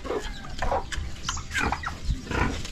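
Chickens cluck repeatedly in short, uneven bursts, close by and fairly loud, with several birds calling over one another.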